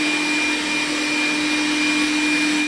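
Dreame L10 Prime robot vacuum cleaner at maximum power, a loud steady whirring roar with a constant high whine, running without pause and with no voices.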